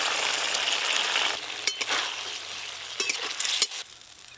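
Round tomato slices sauté in a simmering gravy, giving a steady close sizzle. Sharper clatters of stirring break in toward the end.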